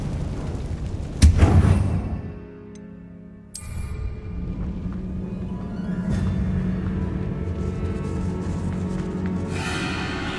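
Bombarda blasting spell in Hogwarts Legacy: a sharp, loud explosive boom, then a second burst a couple of seconds later, both trailing into a low rumbling game ambience.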